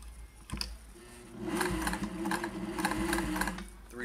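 A vintage Singer 401A sewing machine stitches through several layers of Wrangler denim, its motor whirring up into a fast, steady mechanical chatter after a brief click at the start, close and clear with no talk.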